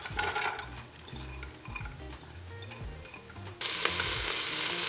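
Onion hits hot oil in a pan and sizzles steadily, with a few stirring clatters near the start and a louder burst of frying toward the end, close and with no voices.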